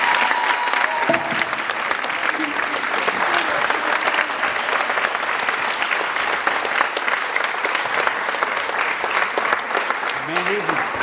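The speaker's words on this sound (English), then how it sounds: "So give them one more round of applause." An audience at a signing day event applauds steadily for the full stretch, dense continuous clapping throughout, with a voice briefly audible near the end.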